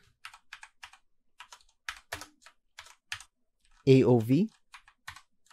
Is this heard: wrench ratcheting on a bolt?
no